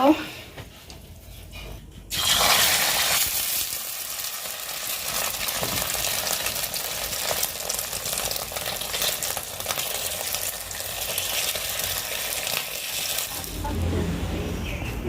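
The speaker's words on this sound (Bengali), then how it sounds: "তো আমি আলু ভর্তা করার জন্য মরিচটা আগে ভেজে নেব" Chili peppers frying in a pan ahead of making potato mash, a dense continuous sizzle that starts abruptly after a brief pause and runs steadily, with a little background noise.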